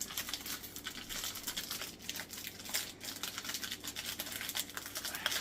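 Tough plastic snack packaging being torn and wrestled open, a steady, close crinkling and crackling with sharp rips scattered throughout, heard alone without any voices.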